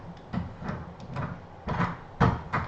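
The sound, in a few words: door being opened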